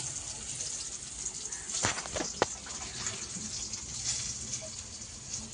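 Boiled taro flowers are tipped into a basket as water drains through, making a soft splashing gush with a few brief spatters near the middle, faint and close.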